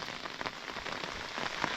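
Rain pours down in a rural village area, a dense, continuous patter of drops striking surfaces, fairly close and with no one talking.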